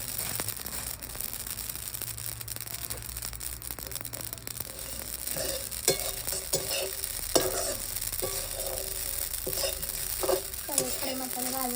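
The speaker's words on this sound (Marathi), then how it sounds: "खडे मसाले भाजून घ्यायचे. तेल नाही टाकायचं ना." Whole spices dry-roast in a pan without oil for Solapuri black masala, a soft crackling sizzle with scraping stir strokes and light tapping, faint and close, and a voice talks briefly.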